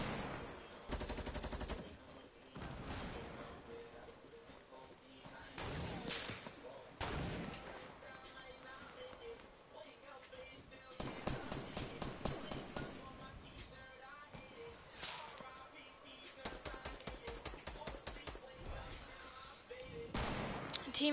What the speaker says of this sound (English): How many angles are they gonna shoot us at?